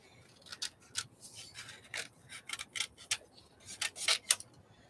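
Tiny scissors snipping paper for a mini scrapbook project, a quiet close series of short crisp cuts and clicks in irregular bursts, with no voices.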